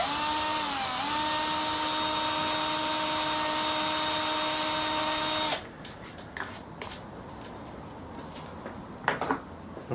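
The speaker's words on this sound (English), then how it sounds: "I'm going to drill a hole" A power drill bores a hole through a plastic horn and carbon fibre with a loud, steady motor whine for about five seconds, dipping briefly in pitch near the start, then cuts out, leaving faint handling clicks.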